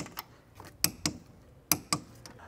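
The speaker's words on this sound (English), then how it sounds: "I'm gonna snug them up with the electric ratchet" An electric ratchet snugs 13mm nuts on a front Airmatic air strut of a Mercedes E63 AMG. It gives short paired mechanical clicks and whirs in brief bursts, close and fairly quiet, with no speech.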